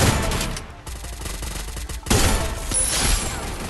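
Gunfire in the battle-royale game Free Fire, loud rapid bursts of automatic shots in two volleys separated by a brief lull, close and punchy, with no talk over them.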